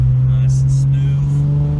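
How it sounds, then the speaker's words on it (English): A 1997 Ford Thunderbird with a custom intake and exhaust hums steadily from inside the cabin as it accelerates smoothly. Its low, even engine drone sits under a voice. "Even if I'm just barely resting my foot on the pedal, it accelerates mighty smooth"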